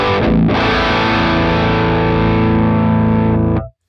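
An ML3 baritone guitar plugged straight into a Horizon Devices Apex preamp rings out in one thick, heavily distorted chord, sustained loud and close for about three seconds before cutting off abruptly.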